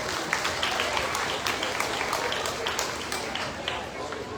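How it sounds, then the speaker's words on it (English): Steady applause from a crowd at the Jackson County Fair opening ceremonies, dense clapping filling the whole stretch at an even, fairly loud level. "Let's give her a round of applause."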